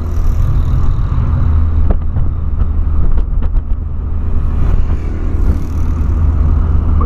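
Volkswagen Polo Sedan driving, a steady low engine and road rumble from inside the cabin with faint clicks and ticks over it, no voices.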